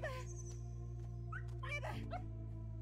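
A dog in the video game Neva gives a few short whimpers and yips over a steady low musical drone, faint and spaced out across a couple of seconds.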